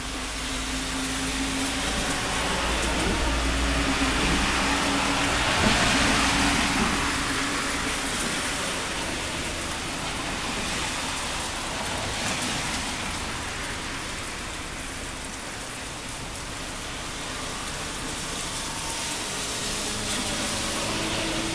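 Summer rain falling outdoors in July, a dense steady hiss of drops on surfaces with a low rumbling undertone, continuous and fairly loud from start to finish with no voices.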